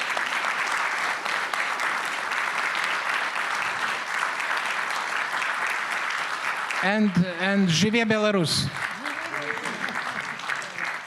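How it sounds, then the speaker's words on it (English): Sustained applause from a conference audience at a forum on Belarus's democratic struggle fills the room steadily, while someone speaks over it briefly near the end. "And now, a round of applause to these wonderful people."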